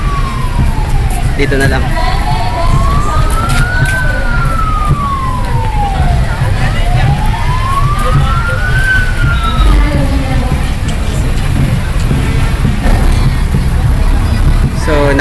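A fire truck siren at a festival floating parade wails in slow rising and falling sweeps, loud and close, over crowd noise and street bustle, with a person talking briefly.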